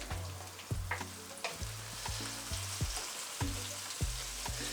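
Onions frying in a pan for a vegan sauce, a continuous bright sizzle with periodic thumps and scrapes as they are stirred, close up and moderately loud, with no voices.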